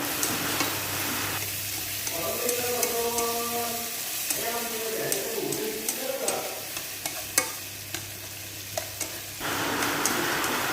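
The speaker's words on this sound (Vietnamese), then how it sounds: "Mình xào cà chua vừa tới thôi nha các bạn" Tomatoes seasoned with salt and MSG are stir-fried in a pan for crab noodle soup, a steady close sizzle with repeated scraping and clacking of the utensil throughout.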